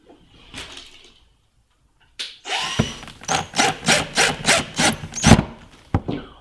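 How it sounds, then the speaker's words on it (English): Wood scraping and rhythmic grinding strokes as screws are driven from behind to fix a painting into a wooden picture frame made from Windsor casing molding, a steady run of loud close bursts. "then I will just attach the painting with a few screws from behind"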